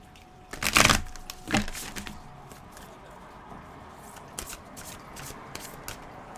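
Tarot cards shuffled for a reading, with two loud riffling bursts near the start followed by softer intermittent card handling and light taps, close and with no speech.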